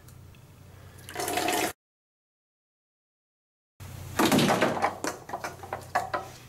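Water poured into a laboratory measuring container in a drinking-water experiment, a rushing splash that starts briefly, breaks off into silence, then returns stronger as a gurgling fill.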